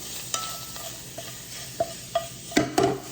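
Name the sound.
sausage being stirred in a sizzling pan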